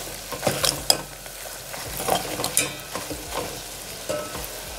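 Dried chili and spices, with asafoetida, sizzle and fry in a pan for a home-cooked rasam, under steady crackling and irregular clinks and scrapes of a stirring spoon.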